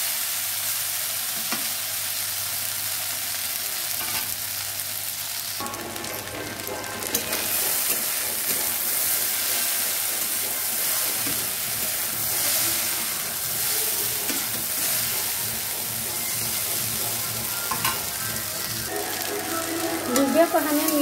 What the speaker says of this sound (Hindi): हमारा ये पकना शुरू हो गया है, इसे हमें इसी तरह से चलाते रहना है